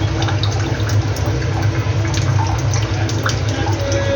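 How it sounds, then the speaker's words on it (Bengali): Tap water runs steadily into a kitchen sink while fish, including prawns, are washed, a loud continuous splashing rush with faint clinks, and no talking. "এই মাছগুলো এখন ধুয়ে রাখছি"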